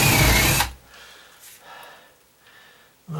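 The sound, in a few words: drilling wood with a paddle bit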